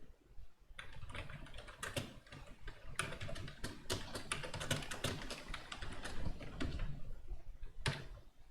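Rapid typing on a computer keyboard while entering a git commit message, dense clusters of key clicks with brief pauses, close and steady, no talk.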